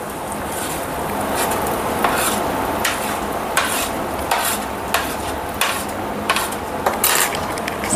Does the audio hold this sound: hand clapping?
no